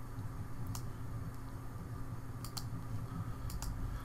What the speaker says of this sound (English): And now I can start typing away.